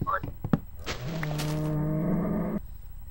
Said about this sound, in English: There's a cow up here, by the way